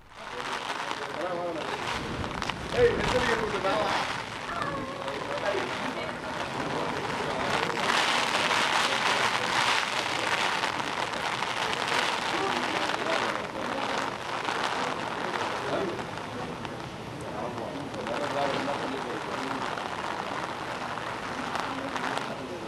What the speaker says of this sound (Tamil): கிட்டத்தட்ட ஒரு மணி நேரத்திற்கும் மேலாக தொடர்ச்சியாக பலத்த மழை பெய்து வருகிறது